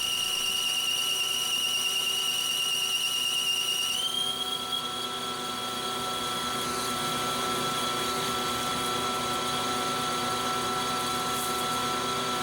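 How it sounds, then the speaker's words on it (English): A small-diameter boring bar squeals steadily while machining titanium, a loud sustained high-pitched whine over the lathe's hum whose pitch drops slightly partway through and then holds. "This is a really small diameter boring bar, so that's why it's squealing"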